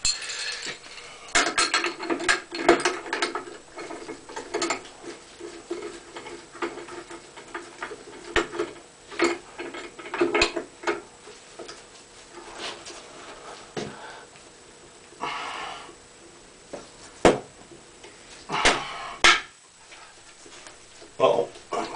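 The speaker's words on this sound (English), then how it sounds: "Let's see if we can get the handle puller on this one." A handle puller works on a Price Pfister faucet handle, producing irregular close metallic clicks, taps and scraping clatter in sporadic bursts.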